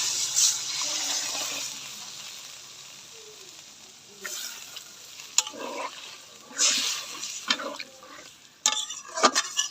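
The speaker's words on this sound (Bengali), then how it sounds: "এবার পরিমাণ মতো জল দিয়ে দিব" Water poured into a simmering vegetarian potato curry (aloo dum) in a pan, with a steady sizzle and stirring, then a few short clatters and splashes of liquid toward the end.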